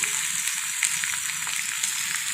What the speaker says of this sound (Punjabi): ਆਪਾਂ ਇਸ ਵਿੱਚ ਪਿਆਜ਼ ਪਾ ਲਾਂਗੇ ਤੇ ਟਮਾਟਰ ਪਾ ਲਾਂਗੇ